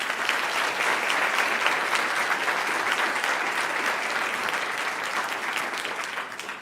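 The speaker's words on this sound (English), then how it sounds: "please join me in a round of applause for these outstanding administrators" An audience at the North Carolina Principal of the Year event gives principals and school administrators a round of applause, dense sustained clapping from a large crowd that stays strong throughout and eases only slightly near the end.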